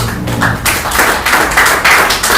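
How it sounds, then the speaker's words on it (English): Audience applause at a fireside chat on the business of architecture, a loud, close burst of many hands clapping continuously, with a few individual claps standing out. "So a round of applause once again for"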